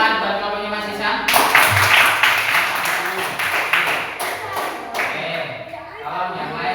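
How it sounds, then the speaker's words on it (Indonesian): Classroom group applauds a student team, with a dense burst of hand claps rising suddenly and continuing steadily, close and fairly loud, with voices mixed in. "Tepuk tangan buat kelompoknya Mas Isan."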